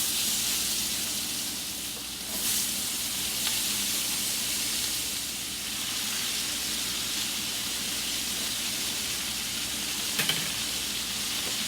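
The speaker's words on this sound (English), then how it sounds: "right now, the onions go in here." Onions sizzle steadily in a pan for a French onion casserole, a constant bright frying hiss with no talking over it.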